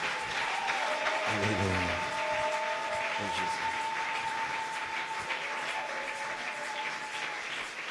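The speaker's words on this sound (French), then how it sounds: "Sous vos acclamations." A church congregation applauds steadily at a sermon by a pastor, the clapping loud and continuous throughout while a voice speaks and sings briefly over it.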